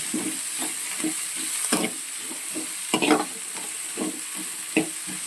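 Capsicum frying in a pan for Schezwan fried rice: a soft sizzle runs beneath a regular rhythm of spatula scrapes and stirs, several sharper knocks standing out, with no voices.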